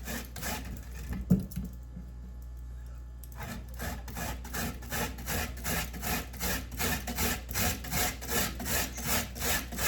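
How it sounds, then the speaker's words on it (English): Frozen pumpkin rasped against a hand grater, a rhythmic back-and-forth scraping that starts after a brief pause and settles into a steady, close stroke pattern. "So I'm going ahead grating my pumpkin."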